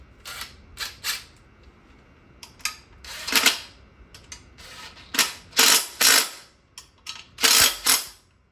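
A 19mm socket ratchet working on ARP studs during LS engine prep, irregular bursts of sharp mechanical clicking separated by pauses, close and fairly loud, with no talking.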